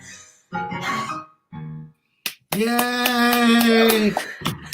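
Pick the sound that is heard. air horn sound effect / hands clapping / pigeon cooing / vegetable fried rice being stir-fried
hands clapping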